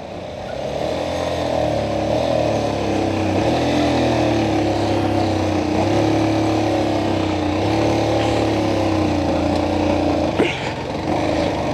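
A motorcycle engine runs loud and close with a steady drone, the pitch climbing gently as the clutch is let out during a hill start, and a brief knock near the end.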